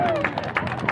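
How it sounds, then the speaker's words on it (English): Onlookers at a street magic performance in Sydney clap in a steady, evenly spaced rhythm over outdoor crowd murmur and talking nearby. "Clap for the second one."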